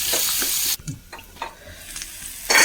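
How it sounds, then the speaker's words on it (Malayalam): Onions and other chutney ingredients sauté in a pan, with a loud sizzle that suddenly drops away, then a few soft stirring scrapes and scattered crackles before the sizzle surges back briefly at the end. "എല്ലാം കൂടി നന്നായിട്ട് വഴറ്റിയെടുക്കാം."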